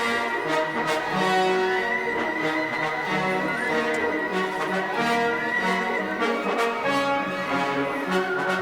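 A full orchestra plays Wagner's Ride of the Valkyries, surging with brass and strings in a dense, driving passage, loud and sustained without pause.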